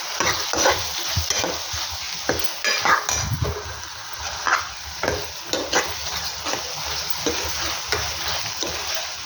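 Spice paste stirred into pumpkin bhaji in a pan, with repeated scraping and stirring strokes over a steady soft sizzle, close and fairly loud, with no voices.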